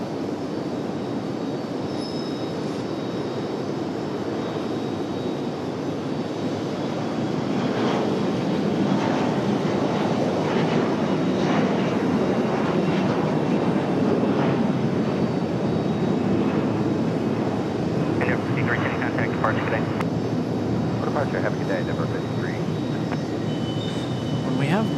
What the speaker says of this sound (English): CRJ up now for departure